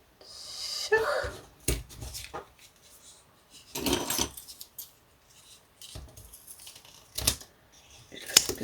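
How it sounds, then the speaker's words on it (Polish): Scissors snip paper during handmade card crafting at a home table, with several short, close bursts of cutting spread irregularly between quiet pauses and small handling noises. "Sobie złapałam nożyczki."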